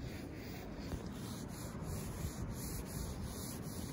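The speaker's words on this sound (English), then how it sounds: "Just cleans off the talcum powder that is on it." Soft, steady rubbing and scrubbing as cleaner is worked over a rubber roofing membrane on a mobile home roof to lift off talcum powder, close and quiet with faint repeated strokes and no talking.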